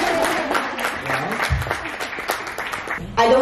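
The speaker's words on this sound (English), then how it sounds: "we can give them an applause" An indoor audience breaks into applause, a steady patter of clapping from many hands under a mix of crowd voices, swelling louder toward the end.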